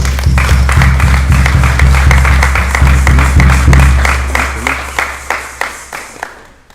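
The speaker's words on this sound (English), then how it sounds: "Give her a nice round of applause." Applause at a funeral service, a crowd clapping steadily and loudly over a low background hum, then thinning into scattered, fading claps toward the end.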